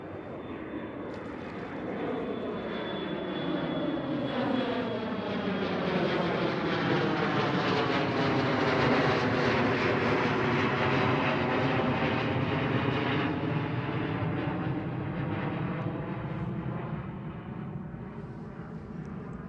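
A KLM Cityhopper Embraer E175 jet at Schiphol Airport passes with a swelling engine roar and whine that peaks midway and then fades, loud and alone without talk.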